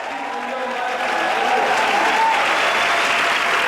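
A room of pastors at a 2002 Honduras revival seminar claps warmly and steadily, a sustained crowd applause that swells slightly midway and carries on throughout.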